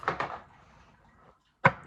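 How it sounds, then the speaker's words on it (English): A drawer in a quilting and sewing workspace is pulled open: a pair of soft wooden rumbles, a quiet pause, then a sharp close knock, all heard nearby. "if I like scoot back here and I open this drawer"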